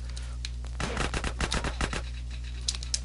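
Gunfire in GTA San Andreas, a quick burst of rapid sharp shots lasting about a second over a steady low game hum, then a couple of faint isolated clicks.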